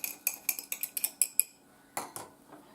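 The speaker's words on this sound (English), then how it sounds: "But you just get a spoon in there" A metal spoon chips and scrapes at hardened pink salt in a jar, a quick run of about ten sharp clinking taps followed by two more scraping strikes after a short pause, close and fairly quiet.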